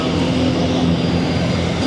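Steady, loud roar of a Qatar Airways Boeing 777 at an air show, a continuous broadband jet engine drone close by with no talking.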